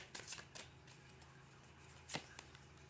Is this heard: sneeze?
no